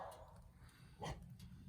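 A dog gives a single short bark around the middle of a quiet outdoor scene beside a sawmill, over low background rumble, moderately near.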